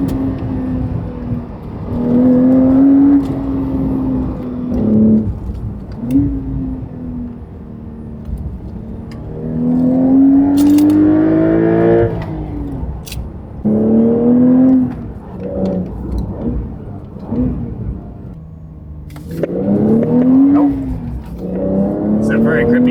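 A Porsche 992 Turbo with a titanium exhaust and stock downpipes revs and accelerates in repeated rising pulls, its engine note climbing and dropping, loud and close, with people talking between the bursts.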